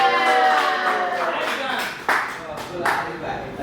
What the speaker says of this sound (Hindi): वन एंड ओनली हमारा भाईजान दानिश भाईजान के लिए कुछ जोरदार तालियां।